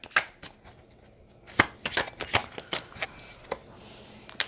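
Tarot cards handled during a reading: a string of sharp, dry snaps and flicks as cards are shuffled and drawn from the deck, close and fairly crisp, with short pauses between clusters and no voice.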